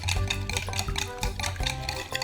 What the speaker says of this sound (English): we can again use our whisk and whisk them all together